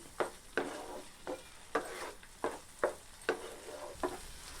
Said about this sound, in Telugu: మనం వేయించి పెట్టుకున్న డ్రై ఫ్రూట్స్ని కూడా అందులో వేసి కలుపుకోవాలి.